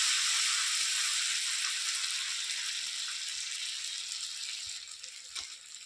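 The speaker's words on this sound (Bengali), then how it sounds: "এই লঙ্কা গুঁড়োটাও দিয়ে দিলাম। ভালো করে মশলাটা ভেজে নেবো।" Steady sizzling of a spice paste with Kashmiri chilli powder frying in hot oil in a pan, a dense bright hiss that slowly eases, with a few faint stirring taps.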